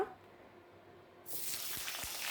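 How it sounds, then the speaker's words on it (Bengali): Potatoes frying in hot oil, with a steady, bright sizzle that starts abruptly partway through and continues at moderate loudness, with a few faint pops under it. "রাঙা আলু ভাজার পর আমরা এমনি আলুগুলোকেও ভেজে নিচ্ছি"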